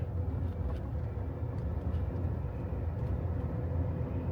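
A car arriving on a road in Hungary, a continuous low engine and tyre rumble at moderate distance, steady with no speech over it.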